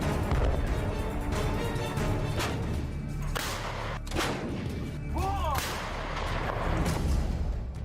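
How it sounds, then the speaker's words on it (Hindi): M777 howitzer artillery firing: a string of heavy booming blasts at uneven intervals, each with a cracking onset, over loud rumbling background noise. "अब इस तोप का असर देखिए।"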